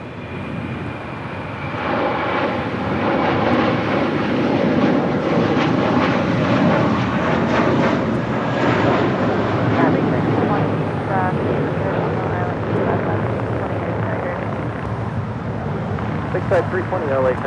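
A heavy jet airliner departs on runway 25 right at LAX, its engines a loud, sustained roar and rumble that swells and holds for the whole stretch, with radio-style talk faintly underneath.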